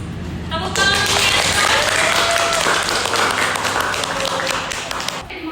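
Audience clapping at the close of a biology teaching practice session, a steady wash of many hands that swells and holds, then cuts off, with a voice speaking over it.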